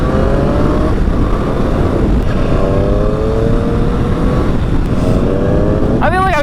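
Triumph Speed Triple motorcycle engine while riding in fourth gear at about 50 mph, a loud steady drone with rising harmonic pitch sweeps as it pulls, heavy wind rush throughout, and a sharp rev climb near the end.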